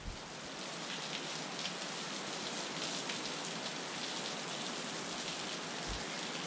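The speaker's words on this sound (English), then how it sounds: "This is a wet weather waterfall." Steady broadband rushing of water from a small wet-weather waterfall after overnight rain, a constant hiss like heavy rain, with no talking.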